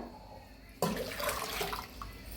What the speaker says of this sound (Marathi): तीन तांबे पाणी ओतूया